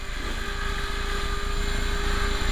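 An HK 450 GT flybarless radio-controlled helicopter runs up close. Its motor and rotor give a loud, steady whine with a constant pitched tone and no talk.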